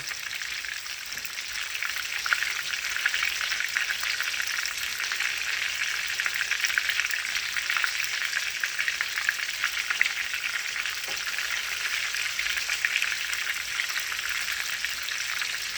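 Blackened salmon fries in a pan, a steady, continuous bright sizzle holding at an even level throughout with no voices over it.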